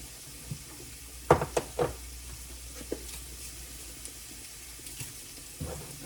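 Eggs sizzle softly in a pan, a steady low frying hiss broken by a few sharp crackles and clinks, with no talking.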